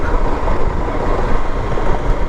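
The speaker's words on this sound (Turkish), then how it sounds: "Sadece motorun sesi var." Steady, loud drone of a car engine while driving on a quiet, rough country road, a continuous low rumble with wind and road noise and no other sounds around it.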